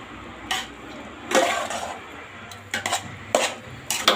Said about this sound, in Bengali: এখন আমি মাংসটা ভালো করে একটু মিশিয়ে নিব।